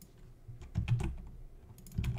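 Computer keyboard typing during a live coding session, a few soft scattered bursts of keystrokes at close range, fairly quiet, with no talking.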